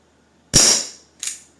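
Two sharp cracks from a Colt Smoke Wagon 4.5mm CO2 air revolver, a loud shot with a brief hissing decay and then a softer second report under a second later, close by and alone.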